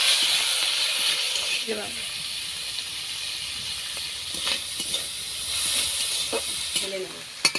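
Shrimp sizzles and fries with salt in a hot pan for pickle-style cooking, a steady close hiss with occasional stirring scrapes and a brief spoken word over it.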